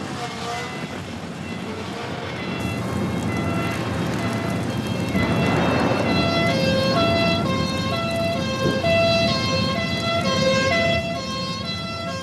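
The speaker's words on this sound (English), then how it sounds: "There's another fire engine coming" A fire engine siren approaching at an airfield fire, its wailing tone rising and growing louder over a heavy rumble of engines and background noise.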